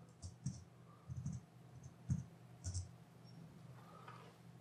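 Keys clatter softly on a computer keyboard as a password is entered, giving a few faint, close clicks in small irregular clusters over a quiet room.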